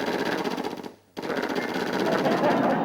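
Comedian's drill sound effect in a Hindi stand-up comedy show, a buzzing rapid mechanical rattle that runs loud, cuts out briefly near the middle, then resumes steadily to the end.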